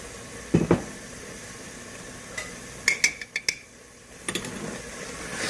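Spinach lamb curry, palak gosht with ghee added, stirred in a pot, a few scattered metallic clinks and scrapes of a spoon over a quiet background, with short gaps between strokes.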